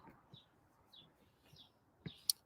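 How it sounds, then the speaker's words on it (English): Small birds chirp outdoors beside a blooming apple tree, with faint, sparse high calls scattered across a quiet background and a sharper chirp near the end. "So listen to the birds, they're chirping."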